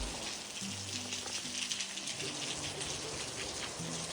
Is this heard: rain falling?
yes